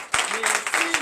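A church congregation at a night deliverance and prophecy service claps and applauds loudly, in short bursts of claps mixed with voices and cheering.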